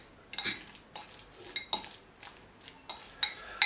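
Masher working potatoes and melted margarine in a metal pot, giving repeated soft squishes and light metallic clinks against the pot at an uneven rhythm, close and fairly quiet.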